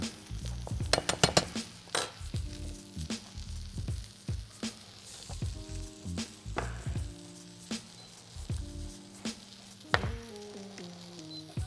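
Low-heat sizzle of kisir cooking down in a pan, a soft continuous frying hiss broken by frequent clinks and taps of a utensil against the pan, close and fairly quiet.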